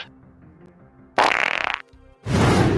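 Cartoon fart sound effects: two loud, buzzy raspberry-like blasts separated by a short pause, with quiet background music beneath.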